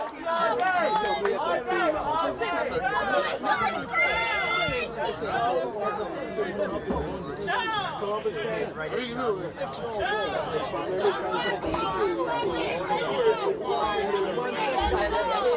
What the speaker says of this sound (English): you can hear that we are here in the bleachers with the crowd